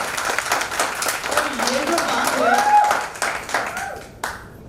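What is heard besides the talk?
guests clapping at anniversary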